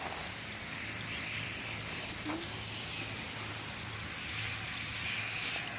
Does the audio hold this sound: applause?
no